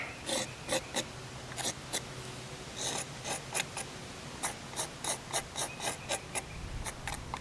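A file rasps in short, even strokes along the edge of a Keen Kutter, putting a slight bevel on it, each pass a quiet scraping burst in a steady rhythm, with no talk.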